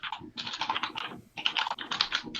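Fast typing on a computer keyboard, a close, steady clatter of keystrokes in two bursts with a short pause between.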